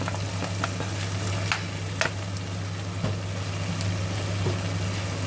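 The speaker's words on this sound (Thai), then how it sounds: "แล้วก็ซอสหอย แล้วก็ผัดให้เข้ากันค่ะ" Chinese kale stir-fried with egg, sugar, seasoning powder and oyster sauce makes a steady close sizzle over a constant low hum, with intermittent spatula clacks as the wok is tossed.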